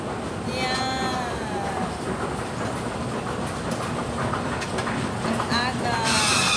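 An MRT train in Kuala Lumpur runs along its track with a steady rumbling roar, some squealing wheel tones and a rush of louder noise near the end, with a voice speaking briefly over it.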